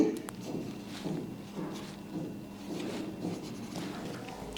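Pen tip scratching out numbers in a children's study book with magical ink, soft irregular strokes close by with small taps between them, steady and quiet throughout.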